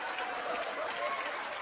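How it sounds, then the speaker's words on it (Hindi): A crowd claps at an awards show, a brief burst of dense, fairly faint applause mixed with a little chatter. "इनके लिए भी जोरदार तालियां"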